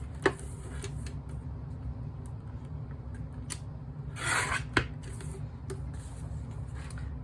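A paper trimmer slides along the edge of card, giving a soft scraping rasp in the middle, with a few sharp clicks before and after over a faint background hum.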